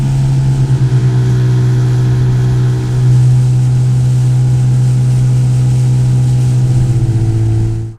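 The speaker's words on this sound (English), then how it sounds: "Only the whine of my two-stroke breaks the silence of a newborn day" A two-stroke outboard motor on an inflatable boat on a Scottish sea loch whines steadily at close range, a loud sustained drone that holds almost unchanged until it cuts off at the end.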